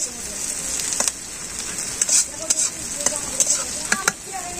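Spice paste with eggs and fish frying in a pan, a steady close sizzle broken by sharp scraping strokes of a spatula, with no talking.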